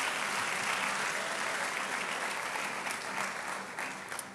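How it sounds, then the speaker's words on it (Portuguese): Sustained audience applause at a church conference service, a dense steady wash of many hands clapping that fills the whole stretch and tapers slightly toward the end, with no talk over it. "Uma salva de palmas."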